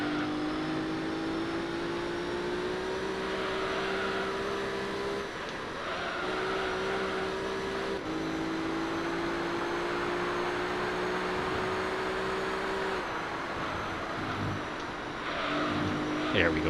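Heavy racing car in Gran Turismo 3, lightened with weight reduction, holding a steady harmonic engine drone that rises and falls with gear changes and cornering, with faint tyre noise, loud and continuous throughout.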